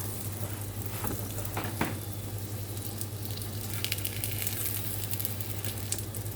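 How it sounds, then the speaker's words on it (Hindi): Aloo paratha fries in desi ghee on a hot tawa with a steady, close crackling sizzle throughout. Brief soft scrapes and presses sound as the flatbread is turned and cooked. "अब इसके साइड चेंज करूँगी और हल्के हाथ से इसको भी पकाऊँगी दूसरी साइड से।"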